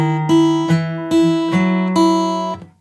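Electric guitar plays bar 16 of a song as a clean, sustained melodic line of about six distinct notes with a steady, moderate rhythm, heard alone and up close.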